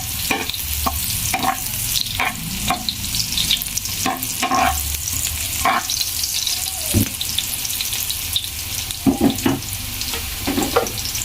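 Chopped onion sautéing in a pan, filling in for the Chinese New Year morcon: a steady sizzle runs throughout, broken by repeated scraping and stirring strokes of a utensil, fairly close and with no talking.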